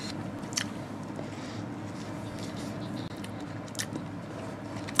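Chewing a McDonald's chicken, bacon and onion sandwich, soft steady mouth sounds of biting and mastication close up over a dense background hum, with a few sharper crunchy clicks.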